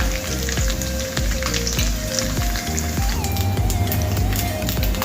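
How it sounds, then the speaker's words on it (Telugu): Ingredients for raw mango pulihora fry in a pan with a loud, close, crackling sizzle that runs continuously, with sharp pops and spatters throughout and no talking. "ఇలా కొంచెం వేయించుకున్న తర్వాత 1 నిమిషం పాటు వేయించుకోవాలి"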